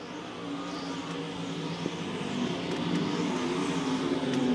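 Modified and stock race cars lap at Lakeside Speedway during a nationals main event, their engines a continuous, fairly distant roar that swells slightly as the field comes around.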